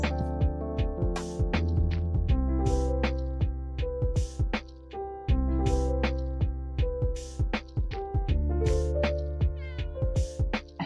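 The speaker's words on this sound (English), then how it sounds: "The cat yelling." A game cat in Plantera 2 meows over and over in rhythmic, tonal calls above a bright musical backing; moderately loud and with no talk.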